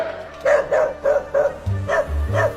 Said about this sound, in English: The barking of the dog attracted the FBI nearby.